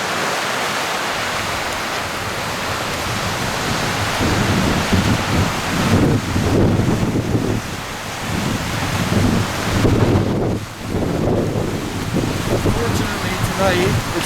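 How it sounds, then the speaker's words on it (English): Strong night wind batters the microphone outside the Queens Royal Hotel, a loud, continuous buffeting roar with gusts that swell and fade, while muffled voices talk beneath it. "It's very windy, so the video, I imagine you can hear the wind"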